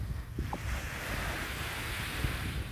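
Waves roll onto the western side beach of Agatti Island in Lakshadweep, a continuous soft surf wash mixed with wind noise buffeting the microphone, with no voices.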